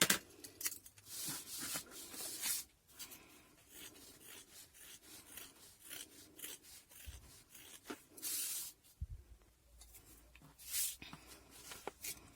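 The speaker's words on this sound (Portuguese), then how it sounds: "você dá picotes com a própria pontinha da tesoura" Scissors snip and rub through excess fabric and waterproof lining in a series of short, close, quiet cuts, with brief pauses and faint handling noise between them.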